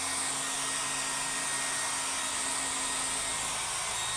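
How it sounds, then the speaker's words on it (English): An air blower holds a ball floating in its stream, producing a loud, steady, close whoosh of rushing air that holds unchanged throughout. "Even if I move the blower from left to right or right to left, the ball comes with it."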